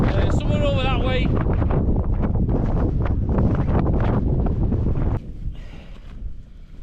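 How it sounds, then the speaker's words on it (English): Strong, roaring wind batters a tent pitched high on Scafell at about 3100 ft during a wild camp, with loud sustained gusting and flapping for several seconds before easing to a quieter rush. "it's windy outside. It's quite wild actually."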